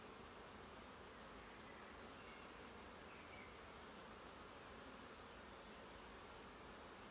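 A dense, steady swarm buzz of many bees fills the whole recording, quiet and continuous with no voices.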